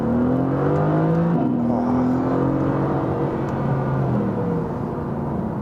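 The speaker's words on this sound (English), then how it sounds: "It's got to be one of the greatest automotive soundtracks of the modern day." A twin-turbocharged car engine revs and settles, a loud, close, throaty drone whose pitch rises and falls over a few seconds, heard alone without talk.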